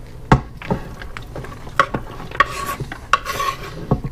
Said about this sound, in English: Put in my onion.